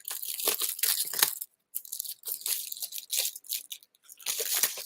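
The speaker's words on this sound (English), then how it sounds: "I take the pair of scissors and I cut the envelope." A pair of scissors cutting open a paper envelope, heard as close, loud crunching and tearing snips in uneven bursts with short pauses between.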